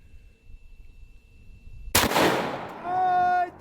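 A 45-70 rifle fires at salt blocks outdoors, giving one loud, sharp report that rings out with a long decaying tail, after a quiet lead-in.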